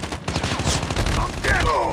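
Call of Duty gunshots from an AK-47 firefight, a rapid burst of close fire blended with game noise and a voice, lasting about two seconds.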